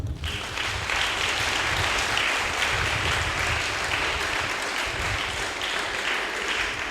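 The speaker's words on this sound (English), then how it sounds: "I want you to clap for yourself." Audience at a technical institute career fair event in Ghana bursts into sustained applause, dense steady clapping starting abruptly and continuing evenly for several seconds without talk.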